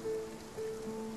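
Steady rain falling in the video game Spiritfarer, a soft continuous patter with faint tonal game music lines running over it.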